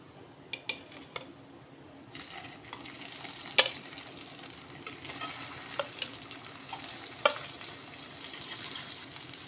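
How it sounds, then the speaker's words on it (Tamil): Poha (aval) cutlets frying in oil on a medium flame, giving a steady soft sizzle with occasional sharp clinks and scrapes of a utensil against the pan, close up and with no talking. "மீடியம் ஃப்ளேமில் வச்சு பொரிச்சு எடுத்துக்கோங்க"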